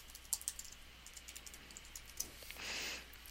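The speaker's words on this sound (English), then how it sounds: "let me type my password" A password typed on a computer keyboard, a quiet run of close key clicks with a brief soft rustle near the end.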